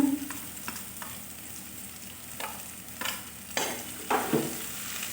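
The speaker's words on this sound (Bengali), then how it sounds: "এবার পেঁয়াজ রসুন আর আদা ভালো করে লাল করে ভেজে নেব" Sliced onion, garlic and ginger fry in a pan for a semolina snack, a soft steady sizzle punctuated by repeated scraping strokes of a spatula that grow a little louder toward the end.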